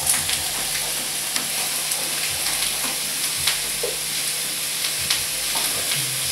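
Chopped serrano peppers for salsa sizzle loudly in a pan, a steady hiss with regular stirring scrapes throughout and no talking.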